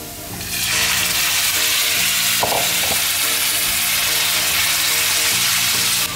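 Meat hits a hot pan with garlic for Korean japchae, and a loud, close sizzle erupts and holds steady, with a brief clink of utensils partway through.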